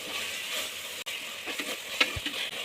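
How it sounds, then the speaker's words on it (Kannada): Coriander and mint get mixed into tomato biryani masala frying in a pot, with a steady close sizzle and a few soft scraping stirs and a light knock near the end, no voices. "ಹಾಕಿ ನೀಟಾಗಿ ಮಿಕ್ಸ್ ಮಾಡ್ಕೊಳ್ಳಿ."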